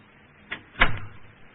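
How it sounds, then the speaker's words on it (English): A door closes in a radio drama sound effect: a soft click and then a heavier, muffled thud with a brief low rumble, close and moderately loud, with no voices over it. "Close the door."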